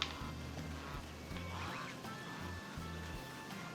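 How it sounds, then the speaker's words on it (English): Ducks quack in a rice paddy in the farming video game Sakuna: Of Rice and Ruin, several low nasal quacks in a loose repeating rhythm, fairly faint against a soft game background with no voices. "So you can release the ducks to help get rid of bugs and some weeds"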